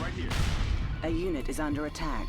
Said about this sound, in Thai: ไหนดูการยิงหน่อยดิ ปัง โอ้โหโอ้ยระเบิดแรงมาก